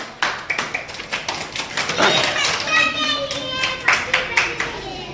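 Children in an indoor school play activity clap for three kids, a quick burst of small hands building into steady, close clapping mixed with excited kids' voices and shouts.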